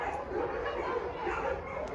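Dogs at an animal shelter yip and bark in a busy, continuous jumble of small barks and whines, with people talking over the noise.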